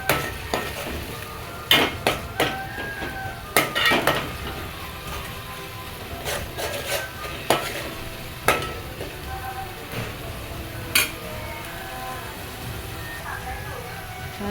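Potato bhaji masala for vada pav stirred and frying in oil, a soft background sizzle punctuated by repeated sharp spoon taps and scrapes against the pan at irregular intervals, close by.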